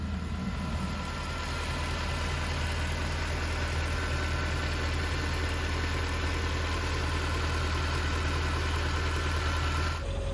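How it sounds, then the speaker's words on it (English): A Mercedes-AMG M156 V8 engine idles smoothly and steadily, a close, even low rumble with a faint high whine that holds constant throughout with no talking. "On idle, this engine is incredibly smooth and quiet."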